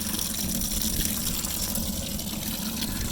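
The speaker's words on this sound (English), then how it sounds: "As you can hear, the live well is now filling up." Steady rushing and gurgling of water filling a boat livewell on a Bass Tracker Classic XL, continuous and fairly close, with a low pump hum underneath.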